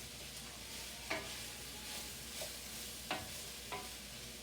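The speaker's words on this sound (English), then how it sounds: "Till the mushrooms sort of cook down and begin to release their liquid." Mushrooms and onions cook in a pot for a beef and barley stew, a soft, steady sizzle with a few quiet stirring scrapes, low in level and with no voices.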